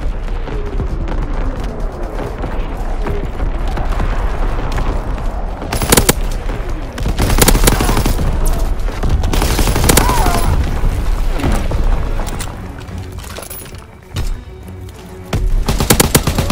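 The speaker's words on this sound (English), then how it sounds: "Incoming enemy artillery!" Incoming artillery and gunfire in the Call of Duty WW2 game form a loud, dense barrage of rapid shots, heavy booming blasts and rumbling impacts, continuous and close with a brief lull near the end.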